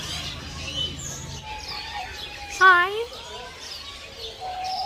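At Gorge Wildlife Park, a bird gives a few short chirps and one louder rising call near the middle, while a person nearby talks and greets it.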